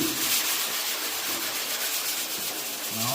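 Sandpaper rubbed by hand over bondo body filler on a car panel, a close, continuous dry scratchy rasp with a steady back-and-forth texture and no talk.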